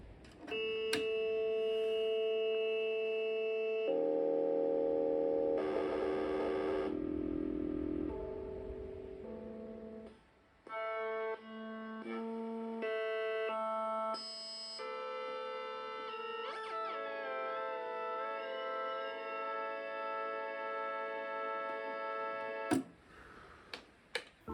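Braids digital oscillator in a modular synthesizer played straight to the output, stepping through its models: a sequence of sharply changing tones, buzzy chords, bell-like pings and warbling pitches, fairly quiet and with no voices.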